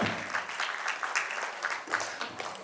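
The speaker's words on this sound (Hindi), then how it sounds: "तालियां एक बार जोरदार होने चाहिए इनके लिए" An open mic audience claps in a burst of applause, dense and steady for a couple of seconds, fairly close, with no voices over it.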